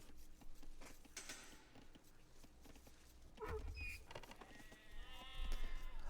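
Sheep in a strategy video game bleat several times in short, faint calls over game effects and background clicks, while a commentator's voice talks through part of it.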